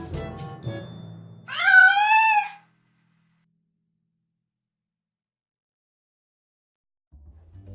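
A single clear cat meow, rising then falling, follows a few brief soft sounds, then silence until a faint low noise near the end.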